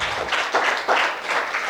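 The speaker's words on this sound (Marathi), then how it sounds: "तर त्यांच्यासाठी एकदा जोरात टाळ्या वाजवायच्या आहे सर्वांनी." A crowd at a community gathering on social change after Ambedkar's Dhamma revolution breaks into applause, a short, fairly loud wash of clapping rising and falling in waves for under two seconds.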